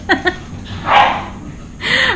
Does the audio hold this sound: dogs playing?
yes